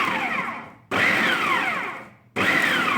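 A food processor grinds banana peels and egg shells in loud pulsing bursts, motor whine rising and dropping in pitch between roughly one-second pulses, with no voices.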